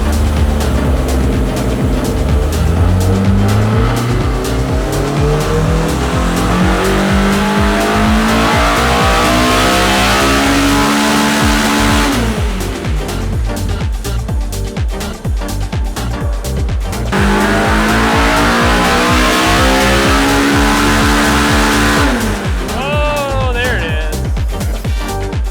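A stock Honda K20 engine screams on a dyno, its revs climbing hard toward about 8,700 RPM in long sweeping pulls, then dropping and climbing again, loud and close.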